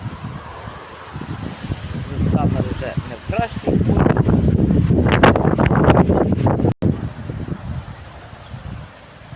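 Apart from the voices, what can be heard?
wind during a storm swaying plants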